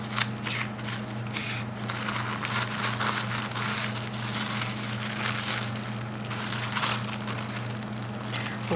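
Tissue paper crinkles and rustles steadily while art supplies are unwrapped, a continuous close papery crackle over a low background hum, with no speech.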